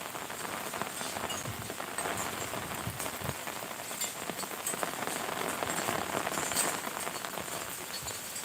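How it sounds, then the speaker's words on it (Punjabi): Heavy rain pours steadily, a dense unbroken hiss of drops drumming on surfaces with no voices. "ਇੱਕ ਵਾਰ ਫੇਰ ਮੀਂਹ ਆ ਜਿਹੜਾ ਉਹ ਤੇਜ਼ ਹੋ ਚੁੱਕਿਆ ਏ"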